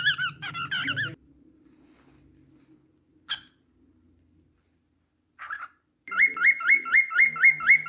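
Cockatiel chattering to its mirror: bursts of warbling chirps and squeaky whistles, a brief sharp squeak mid-way, then a rhythmic run of repeated whistled notes, close and fairly quiet, with pauses between.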